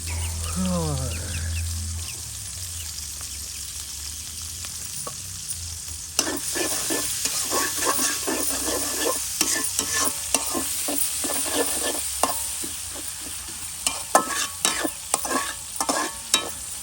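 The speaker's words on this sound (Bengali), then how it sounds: "তাই পেঁয়াজ তো কষা লাল লাল করে ভাজতে হইবে, কষানো।" Onions fry on an outdoor stove and are stirred until red-brown, with a steady sizzle and repeated rhythmic scraping strokes of a spatula against the pan; a voice is heard briefly at the start.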